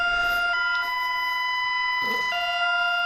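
A steady electronic siren tone with stacked harmonics sounds continuously, shifting pitch briefly partway through, fairly loud and close.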